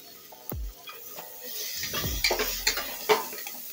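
Onion, garlic, chilli and bay leaf sauté in butter in a hot pan, with a short sizzle burst, then clinks and scrapes as the mixture is stirred, close and fairly loud.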